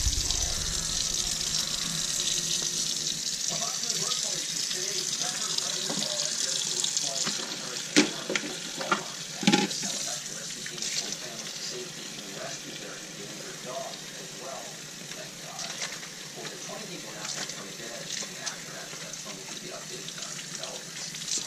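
Water runs steadily from a tap into a kitchen sink to soak small parts from a Rainbow E2 vacuum motor, a continuous close hiss with occasional clanks of parts and faint talk beneath.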